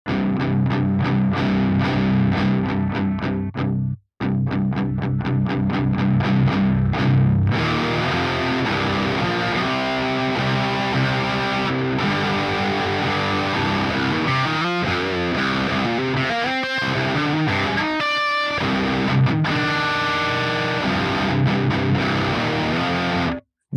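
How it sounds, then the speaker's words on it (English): Electric guitar played through a Boss DS-1 distortion pedal with the distortion turned fully up, thick saturated chords and riffs ringing loud and continuous, with a brief gap and sustained notes. "Diming the distortion gives me a solid, beefy texture to it"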